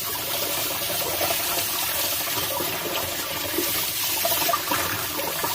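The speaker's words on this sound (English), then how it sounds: "So I'm just getting them all rinsed off." Tumbled rocks being rinsed under steadily running tap water, a continuous close splashing gush with no talk over it.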